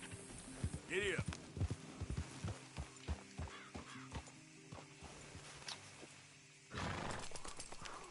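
A horse in a PS4 video game whinnies loudly near the start, then its hooves clip-clop in a steady rhythm over a low hum. A second rush of noise swells near the end.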